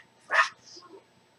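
A single short dog bark, fairly close and moderately loud, followed by a faint trailing whimper in an otherwise quiet room.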